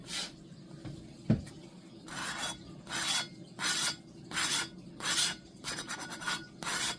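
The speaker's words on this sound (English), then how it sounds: "I'm gonna take some fine grit sandpaper" Fine grit sandpaper rubbing over a dragon scale tumbler finish, a steady series of about eight close, rhythmic rasping strokes with brief pauses between them, with a single small knock early on.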